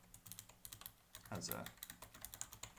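Rapid typing on a Razer Ornata V2 Chroma keyboard, with crisp, closely spaced keystrokes in a steady, uneven rhythm. A brief louder burst comes midway, and a voice murmurs faintly.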